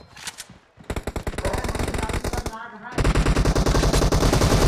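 Automatic weapon fire in the mobile battle royale game BGMI, dense rapid bursts that run almost without pause, loud and close, with a brief break before a second sustained stream.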